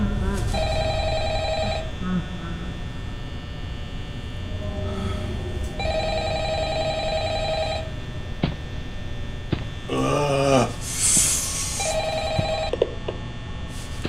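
An old telephone rings in a back room at a Chuck E. Cheese-style pizza restaurant, sounding in repeated bursts separated by pauses, with steady mains hum and a voice and other noises between the rings.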